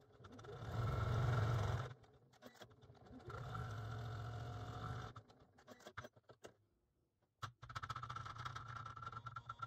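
An embroidery machine stitches a squeaker into an in-the-hoop toy, running in loud steady bursts that stop and start with pauses and clicks between, close by.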